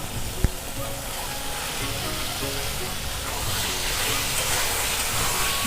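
Potatoes and mushrooms tipped into a spicy gravy for Bengali-style mushroom kosha give a dense, steady hiss and sizzle, with one sharp knock near the start and a sound that swells slightly toward the end.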